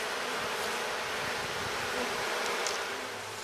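Honeybees at an April hive full of fresh honeycomb make a dense, steady buzzing drone close up, unbroken throughout.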